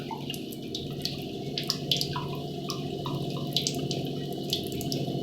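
Water runs steadily from the spout of a Kangen water ionizer machine set to 9.5 pH, a continuous close pour with a bright splashing texture and small drip-like accents throughout.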